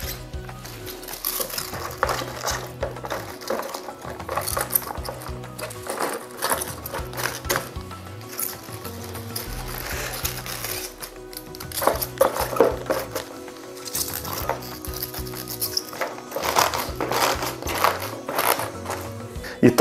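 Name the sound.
cabbage being laid and pressed down in a jar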